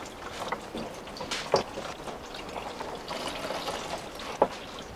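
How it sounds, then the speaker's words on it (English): Fluids drain from a BMW E30 during an engine and transmission removal, an irregular trickle and pour of liquid with a few louder splashes, close and fairly quiet in a workshop. "we came back to work and drained all the fluids"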